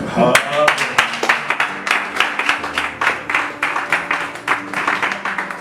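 A church congregation claps and applauds the Lord in quick, rhythmic, close claps, joined by voices and some music beneath the steady beat.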